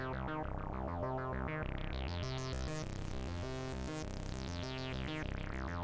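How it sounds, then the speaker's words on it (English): Arturia ARP 2600-V software synth preset playing a dense, sustained chordal pattern with a triangle LFO wobbling the tone steadily in the background, loud and continuous with no talking. "you can hear the LFO in the background doing its thing"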